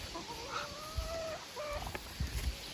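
Hens cluck and let out a drawn-out, wavering call close by, with a few soft thumps underneath in an otherwise quiet setting.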